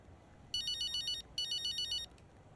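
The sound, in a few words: phone ringing in video game F1 25 Braking Point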